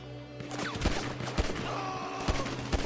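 Video-game gunfire in GTA V survival mode, with rapid loud shots cracking in quick bursts and overlapping reports over a dense background of game noise.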